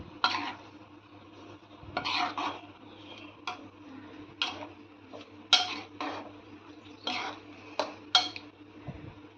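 Masala curry stirred in a pan after water is poured into the paste of spices and cumin, a spoon scraping in a string of distinct strokes, close and moderately loud over a low steady hum.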